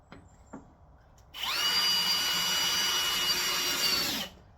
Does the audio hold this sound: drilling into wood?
yes